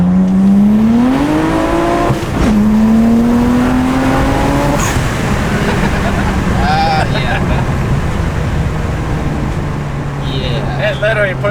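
A tuned BMW 335i with the N54 engine accelerating hard with anti-lag off, a loud rising engine drone that climbs through gear shifts, recorded from inside the car with people talking over it.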